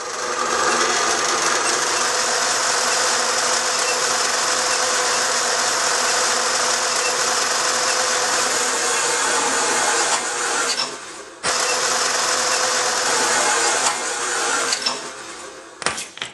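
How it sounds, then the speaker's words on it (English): A horizontal bandsaw cuts through metal with a loud, steady whirring and grinding hum, briefly dipping once partway through, then running on before sputtering near the end. "let's go back to that horizontal bandsaw and get moving"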